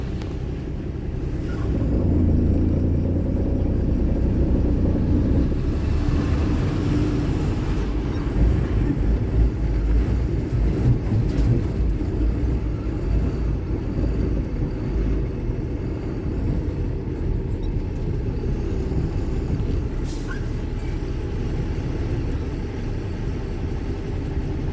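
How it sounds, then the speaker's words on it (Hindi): Heavy vehicles, including trucks with air brakes, rumble past one after another on a roadside beside a dhaba, a loud continuous roar of engines and tyres with occasional brake hisses. "अब ये सारी गाड़ियाँ निकल जाएंगी"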